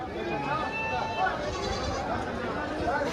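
Goats bleating at a busy outdoor livestock market in Ajmer, Rajasthan, a few wavering bleats amid crowd noise and talking nearby.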